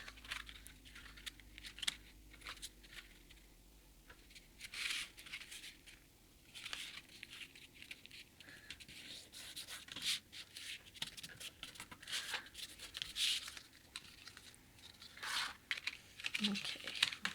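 Someone folds a faux leather pocket by hand, producing quiet, close crinkling and creasing rustles in irregular bursts.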